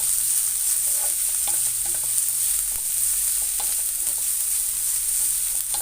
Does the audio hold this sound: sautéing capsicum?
yes